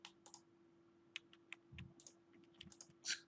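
Quiet computer keyboard typing and mouse clicking while working in Excel, a scattered series of light taps and clicks over a soft steady hum, no talking.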